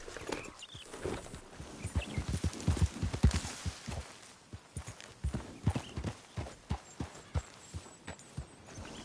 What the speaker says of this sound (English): How's that horse doing?